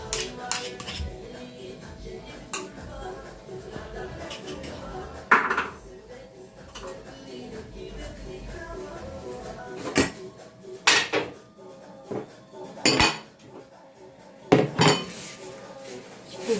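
Makrout dough being mixed in a bowl, with irregular scraping, clinks and knocks of utensil against the bowl, close by and moderately loud, with no talk.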